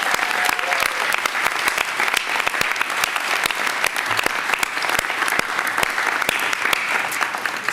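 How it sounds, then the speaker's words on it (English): A ceremony audience applauds the FDNY Honor Guard, steady dense clapping from a large crowd sustained throughout without pause. "How about a big round of applause for them?"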